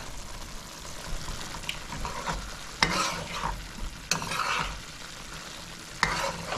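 Bangamary fish curry with green mango and okra simmering and sizzling in a pan, with a steady bubbling hiss broken by several louder scrapes and stirring bursts.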